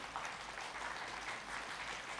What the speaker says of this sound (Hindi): अपना कीबोर्ड स्वामी जी के लिए जोरदार से तालियां बजाएंगे।